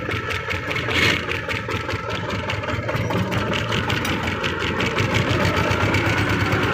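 T-25 tractor engine running steadily while reversing and pulling away, a continuous close diesel drone of even loudness throughout, with no talk.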